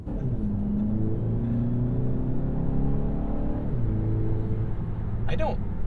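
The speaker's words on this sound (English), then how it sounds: "I don't like the sound of this motor as much as the 30i." A 2023 BMW X1's engine runs with a steady droning hum that shifts pitch slightly, as if revving gently; a short higher sound pops in near the end.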